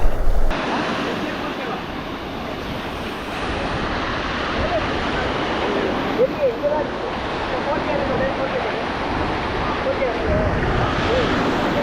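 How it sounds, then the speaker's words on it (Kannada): Ocean waves on a beach at Honnavar, a broad continuous roar of surf with wind buffeting the microphone, heard up close. "ನೋಡ್ರಿ ಹೆಂಗಂಟು ಅಲೆಗಳು ಒಂದಕ್ಕಿಂತ ಜಾಸ್ತಿ ಆಗ್ತಾವ."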